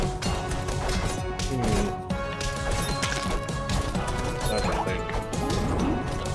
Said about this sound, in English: there's just like a bunch of punching noises